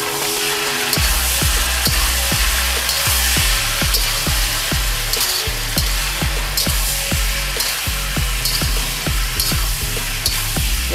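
Pork and onions fry hard in a very hot wok, a loud steady sizzle with sharp periodic clanks of a spatula or ladle against the metal, no voices.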